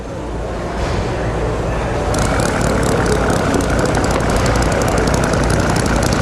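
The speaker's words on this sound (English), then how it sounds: "mainly good for showing children how a four-cycle spark ignition engine operates" Small four-cycle spark ignition display engine with a visible rotor, running steadily on gasoline; a continuous loud mechanical drone with a rapid rattling pulse that thickens after a couple of seconds.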